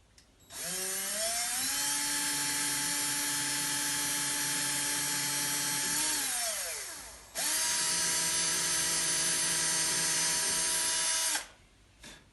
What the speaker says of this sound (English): get your wee drill